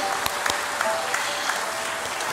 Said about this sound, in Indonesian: untuk kemuliaan nama Tuhan Yesus, boleh kita sekali lagi tepuk tangan